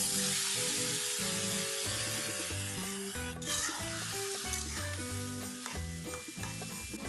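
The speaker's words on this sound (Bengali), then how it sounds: "এখন আমি এই তেলটার মধ্যে আলুগুলো দিয়ে দেব।" Potatoes coated with salt and turmeric fry in hot oil with a loud, continuous sizzle and some stirring, while background music plays throughout.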